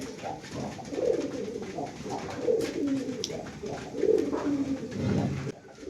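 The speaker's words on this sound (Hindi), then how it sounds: "कबूतर का रियल वॉइस आप लोग सुनिए कैसे बोलते हैं।" Domestic pigeons coo nearby in a repeating pattern of soft, throaty calls, one after another, with a few faint background noises.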